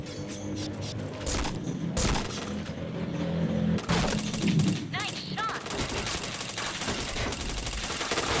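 Continuous gunfire from a mobile shooter game, with dense rapid bursts and heavier single shots under a busy game soundscape, while players talk over it.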